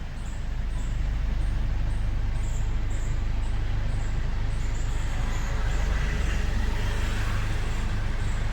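Car engine humming steadily as it slowly reverses during a driving lesson, a continuous low drone with a faint repeating tick on top, no voices.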